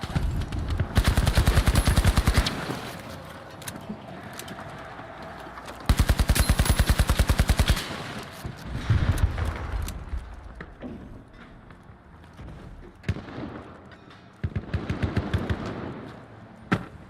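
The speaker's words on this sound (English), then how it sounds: "I'm actually hitting people from over here, probably because I'm using the AK." Bursts of AK rifle fire in a ranked match of The Finals, with loud sustained automatic volleys at the start and in the middle, then sparser shots and a final stretch of firing amid game noise.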